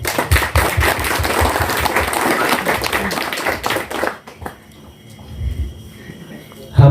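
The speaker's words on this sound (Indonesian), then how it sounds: "Dan saya pengen tepuk tangannya kepada teman-teman kita semua." Audience clapping fills the first four seconds with a dense, steady patter, then fades to a quieter room with scattered sounds and a sudden loud thump at the end, at a Javanese cultural gathering.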